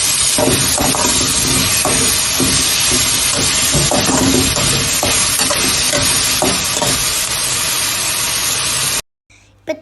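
Curry leaves and onion frying in hot oil for an eggplant gravy, a loud dense hiss with clattering stirs throughout, cutting off abruptly near the end.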